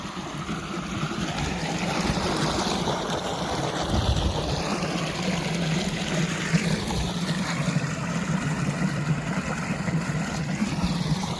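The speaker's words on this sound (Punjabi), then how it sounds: "ਇਧਰ ਖੱਡ 'ਚ ਪਾਣੀ ਪਈ ਜਾਂਦਾ ਜੀ ਪਾਣੀ ਕਿਹੜੇ ਪਾ ਨਿਕਲਦਾ ਪਤਾ ਨਹੀਂ ਲੱਗ ਰਿਹਾ" Water runs steadily into a ditch beside a Punjab farm field, a continuous low rushing and gurgling that holds at an even level throughout, with no voices.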